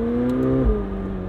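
McLaren 720S Spider engine revving hard under full acceleration, a loud, steady harmonic drone that climbs and then shifts pitch with a low thump partway through, heard close and with no talk.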